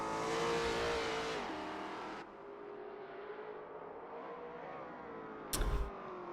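A race car engine in Assetto Corsa at Laguna Seca screams at high revs, then drops off on a lift and holds a steadier note as it passes, with a brief sharp burst near the end.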